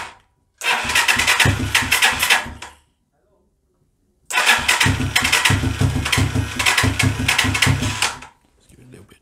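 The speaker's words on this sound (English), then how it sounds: "let's see if we can get this started. Ignition, start button." A 125cc Sinnis Heist hardtail chopper motorcycle with an electric starter cranks in two loud, close bursts of about two and four seconds, separated by silence, without catching to a steady idle.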